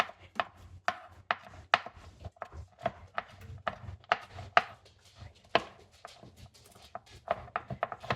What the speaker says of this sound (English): so I'm going to chop this up just a little bit more